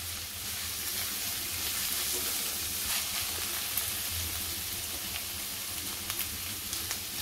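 Onion fries in a pan for pithla, giving a soft, steady sizzle at low volume with occasional faint crackles and light stirring ticks throughout.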